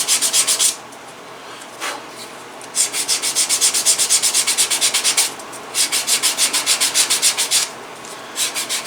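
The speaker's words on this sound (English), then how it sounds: "this is my first sanding on it really" Rhythmic sandpaper strokes rasp against leather for a holster in quick back-and-forth bursts, pausing briefly between sets, close and fairly loud.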